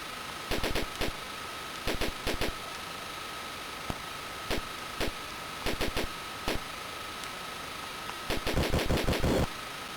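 Aircraft cannon in the Atari ST flight sim F29 Retaliator fire in short rapid bursts of crisp digital shots over a constant engine hum, with a longer sustained burst near the end.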